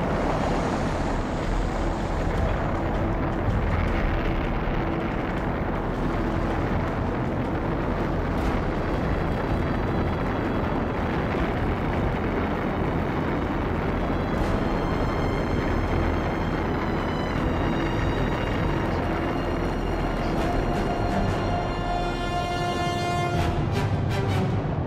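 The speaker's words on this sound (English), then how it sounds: "Ignition sequence start." Saturn V rocket engines igniting at launch, a continuous, dense, very loud roar that stays steady throughout with no voice over it.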